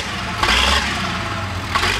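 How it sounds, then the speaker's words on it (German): A Hanomag tractor engine starting and idling, giving a low rumble with two brief rough bursts as it catches and revs, then a steady mid-pitched idle. "Gentlemen, start your engine."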